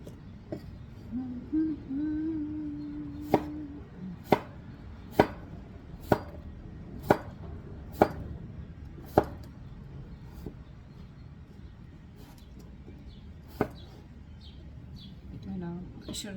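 A knife chops beef salad ingredients on a cutting board, giving a steady series of crisp single knocks about a second apart over a quiet room background.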